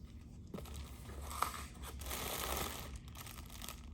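A package being sliced open with a razor blade, a quiet close crinkle and crunch of packaging and tape with one sharp snick partway through, no voices over it.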